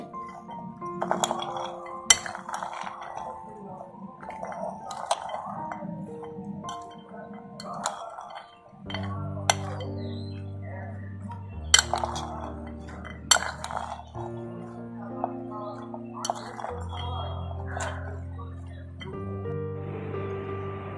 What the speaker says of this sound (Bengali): একটা চামচ দিয়ে কিন্তু আমি ছোলাটাকে ভালো করে মিশিয়ে নিচ্ছি।